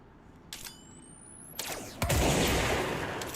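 Gunfire in the video game Control, where the weapon pierces through targets: a short burst of loud shots, then a rising whine, another crack and a heavy sustained boom with roaring noise.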